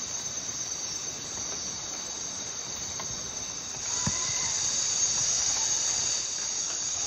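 Night insects in a Costa Rican jungle keep up a dense, steady high-pitched shrill chorus, loud and unbroken, swelling slightly midway with a few faint calls and a soft knock on top.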